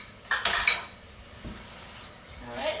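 A spoon scrapes the bottom of a pan holding masala paste for dahl gosht, two bursts of metallic scraping and clinking with a quieter tap between them, close and fairly soft.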